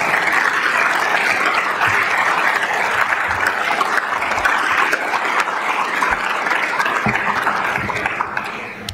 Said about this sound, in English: Sie dürfen applaudieren.